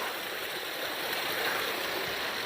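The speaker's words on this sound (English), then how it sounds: "We have a beautiful, like a waterfall" Indoor waterfall water feature beside a glass wall, a steady broadband rush of falling water filling the space evenly, close and continuous with no voices.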